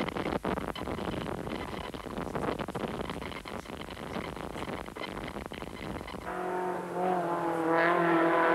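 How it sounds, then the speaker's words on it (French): A BMW M3 rally car on the 1987 Tour de Corse, a loud engine roar rising and falling through gear changes, then a sustained high whine as it passes close, with wind buffeting the microphone. "Béguin qui utilise parfaitement les ressources de sa M3, une voiture souple et confortable à piloter."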